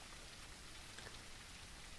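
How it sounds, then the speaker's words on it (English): Steady rain falls in a woodland setting in a zombie video game, an even, hissing patter of drops that stays constant and fairly faint throughout, with no voices. "I'm in the woods. It's raining."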